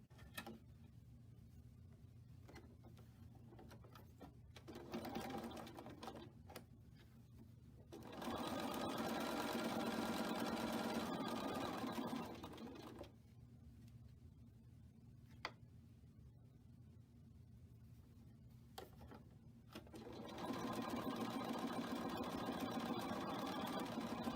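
A sewing machine chain piecing quilt blocks runs in two long bursts of steady motor whir, separated by quieter stretches of clicks and handling, with faint ticks between stitches.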